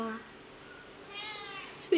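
A pet cat kitten in Ibiza gives a short meow near the end, close by, after quiet room tone; a person's voice is present.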